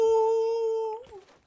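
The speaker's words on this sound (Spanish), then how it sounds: "Ah, el búho suena así." An owl call sounds in the Dauntless video game, a single sustained hooting tone that holds steady and then bends and fades, near and clear with no speech over it.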